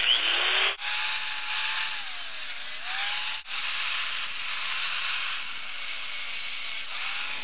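A Harbor Freight 4 1/2 inch angle grinder fitted with a short cutting disc whines loudly and steadily at close range, with a brief spin-up at the start and momentary dips as the disc bites into the workpiece.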